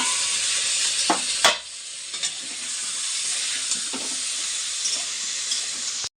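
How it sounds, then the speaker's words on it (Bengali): Potatoes fry in a pan with a steady, loud, close sizzle and hiss, broken by a few scraping clicks as they are stirred. "আর এখন আলু ভাজা হচ্ছে, মানে আলুটাকে ভেজে নিই।"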